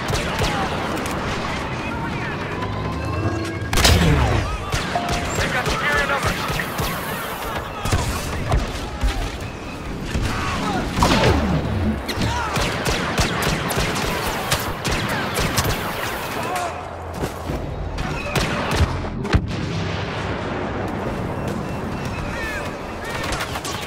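Blaster fire rains on an AT-AT walker in the Star Wars Battlefront video game, dense overlapping shots and explosions crackling continuously across a chaotic battlefield, with occasional louder blasts and background voices.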